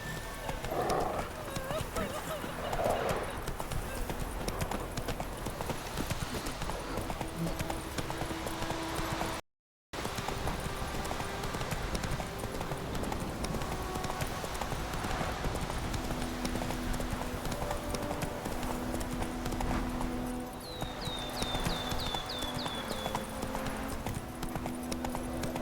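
Hooves of Roach, Geralt's horse in The Witcher 3, clop steadily on the ground as the horse moves, with a whinny near the end. Music and ambience run underneath.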